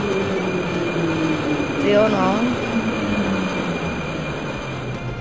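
A metro train rumbles along in the Roblox video game, a steady rolling drone with a brief squealing whine from the wheels or brakes midway, while a voice talks briefly over it.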